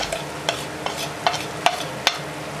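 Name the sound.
stirring and frying potato and lobia with spices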